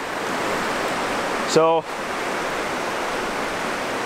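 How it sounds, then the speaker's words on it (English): Waterfall on a shallow river at a cold riverside campsite, a steady broadband rush of falling water that holds close and even throughout, briefly overlaid by a single spoken word. "I believe this waterfall has a name."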